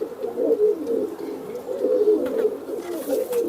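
Racing pigeons at a home loft coo in a soft, continuous, overlapping murmur, close and steady without pause, with no talking heard.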